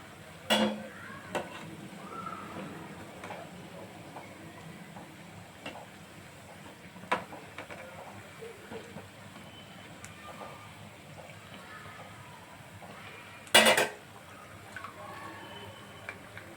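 Garelu, lentil fritters, frying in oil in a pan, a faint soft sizzle with occasional stirring clicks and one sharp utensil clatter near the end.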